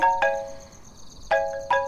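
A phone ringtone chimes with bright tonal notes, one ring near the start and two more toward the end, loud and close, for a call from an unknown number in a Bollywood film.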